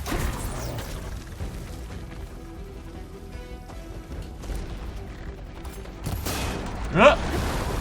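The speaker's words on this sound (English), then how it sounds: "Therefore, I feel I should shoot it." Gunfire erupts in Horizon Forbidden West against a spinning machine, with scattered shots and clanks over a low background. One louder blast sounds near the end.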